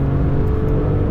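Alfa Romeo Stelvio Quadrifoglio crossover accelerating hard with its exhaust in race mode, a loud, steady low rumble and whir from inside the cabin without any break.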